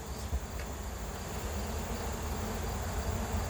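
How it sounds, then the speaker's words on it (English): Honey bees buzz around a beehive in a dense, steady hum that stays close and continuous, with no voices. "they're telling the other bees that were flying around, this is where home is"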